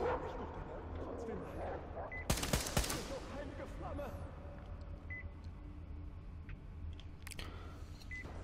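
Gunfire in Metro Exodus as a red barrel is shot at: a sharp burst of rapid shots cracks out about a third of the way in, with a few scattered electronic beeps and a louder shot near the end over low background ambience.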